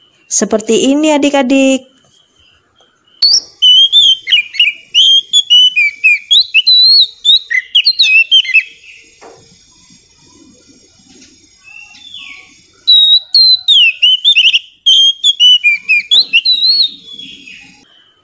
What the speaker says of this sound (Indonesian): Ada burung yang bisa bernyanyi.